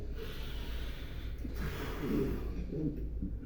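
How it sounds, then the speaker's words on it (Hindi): Breaths drawn in sharply through the nose and pushed back out, a few audible snorting puffs over a steady low hum. "आपने नाक के ज़रिए सांस अंदर खींचना है और बाहर फूंक ऐसे"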